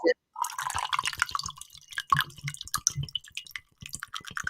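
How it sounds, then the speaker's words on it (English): Water pours into a mug with a light dripping, trickling sound, while people talk over it throughout. "I'm putting water in my mug."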